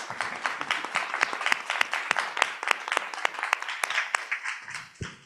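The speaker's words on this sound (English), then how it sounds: "a big round of applause to Abby, Haley, and Morris." Symposium audience applauds, a dense patter of many hands clapping close by that swells, holds and then tapers off near the end.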